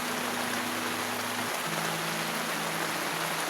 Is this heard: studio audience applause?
no